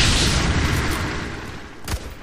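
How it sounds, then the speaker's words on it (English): Explosions in the video game Fear 3 produce a deep rumbling boom that fades away, then a sharper blast bursts out near the end. No one speaks. "I heard lots of explosions and then silence."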